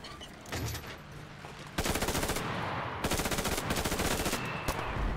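A gun in the video game Enlisted fires in long rapid automatic bursts, loud and close, following one short shot and a brief pause, with sharp cracks in a fast steady rhythm and no talking.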